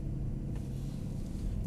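A Mercedes SL63 AMG engine throttle blip on a test track, a steady deep low rumble that holds throughout with a slight swell in revs, close and fairly quiet.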